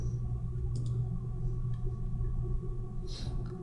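A few soft, faint mouse clicks on the Transfer button in the OverDrive Media Console, spaced apart over a steady low computer hum, with no talking.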